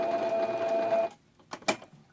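A sewing machine stitches two pieces of material together, running steadily with a whirring hum for about a second, then stopping, followed by a few faint clicks and taps.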